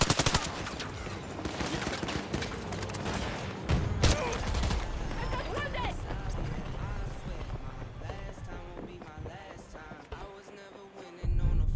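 Suppressed assault rifle gunfire in the shooter Battlefield 2042, a dense, continuous run of rapid shots and bursts with layered battle noise, loud throughout and swelling again at the very end.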